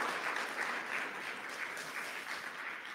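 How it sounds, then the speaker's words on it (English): Round of applause at a spiritual celebration, a brief burst of dense, steady clapping from a gathered crowd with no talking over it. "let's give these beloveds another round of applause"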